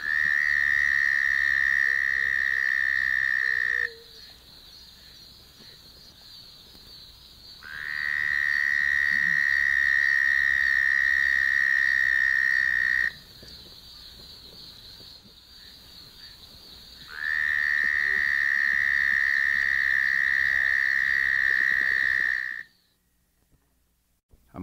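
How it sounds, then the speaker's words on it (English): Southern toad (Bufo terrestris) in a Florida frog chorus, giving long, loud, sustained trills of several seconds each, three of them separated by quieter gaps of background chorus. "The larger of the two is a southern toad, Bufo terrestris, with a relatively loud trill."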